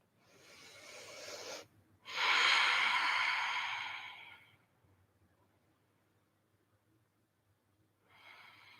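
Slow, deep breathing during a vinyasa yoga practice: a long airy inhale, a brief pause, then a fuller, louder exhale, close to the microphone, followed by quiet and the start of another breath.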